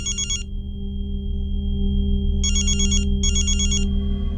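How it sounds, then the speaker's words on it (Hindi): A telephone rings with an electronic trilling bell in three bursts, one short and two longer ones close together, fairly loud over a steady low indoor hum, with no talking. "हाँ देखो तो मनोज का फोन है क्या?"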